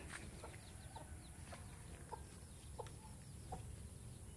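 A white chicken on a rural farmyard, scratching where sweet potatoes are tossed, gives soft, scattered clucks at intervals over steady low outdoor background noise.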